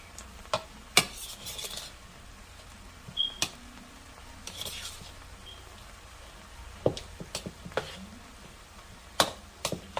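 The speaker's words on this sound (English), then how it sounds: "Now mixing it all up." A salmon croquette mixture with Chesapeake Bay seasoning being stirred and mixed in a bowl, producing soft, irregular scraping and clicking taps of the utensil against the dish, close and fairly quiet.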